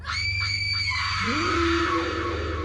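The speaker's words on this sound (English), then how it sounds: "the ghost's screams filled the room" A ghostly scream for a horror story, a shrill wavering shriek that rises and bends in pitch and holds loud and close for a couple of seconds.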